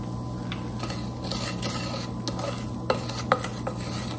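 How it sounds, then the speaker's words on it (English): Steady sizzling of hot caramel popcorn with marshmallow being stirred in a pan, with scraping spoon clicks and a few sharper knocks, no talking. "listen to that sizzle"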